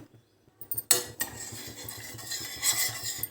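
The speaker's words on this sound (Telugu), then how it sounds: "పాలు పోసిన తర్వాత కూడా మనం తిప్పుకుంటా బాగా మరిగించుకోవాలి" A spoon clinks and scrapes around a metal pot as milky tea boils on the stove, starting after a short quiet moment and continuing as a bright, steady stirring and bubbling with no talking.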